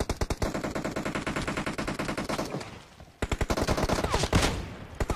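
Rapid automatic gunfire in PUBG during a team deathmatch, loud close bursts of evenly spaced shots, a brief pause near the middle, then another sustained burst.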